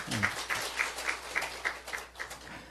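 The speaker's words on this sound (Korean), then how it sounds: "우리 하나님께 박수 올려드려요." A short burst of scattered hand clapping from a church congregation, rhythmic and moderately loud, fading after a few seconds with no talking.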